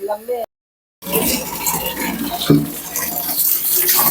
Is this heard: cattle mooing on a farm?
no